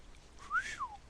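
A person whistles a single short rising-then-falling note imitating the Star Trek theme, clear and close in a quiet room.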